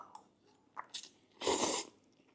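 Crunchy cooked vegetables from a vegetarian meal-prep dish bitten and chewed close up, a few soft crisp bites leading to one louder, longer crunch, with no talking.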